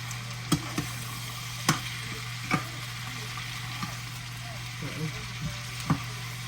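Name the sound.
Brussels sprouts stir frying in a pan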